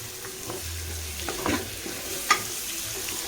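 Chopped onions fry and get stirred in a pan while a chicken curry-leaf pepper dry is being cooked, giving a steady close sizzle with scraping stir strokes and one sharper clink near the end, with no talking.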